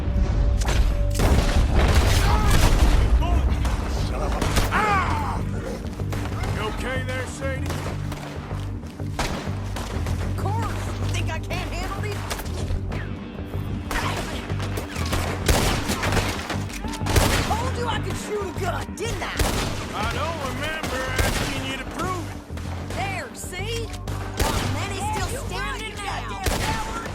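Gunfire in Red Dead Redemption 2, a volley of shots and booms loudest at the start, then scattered bursts continuing under game noise and voices.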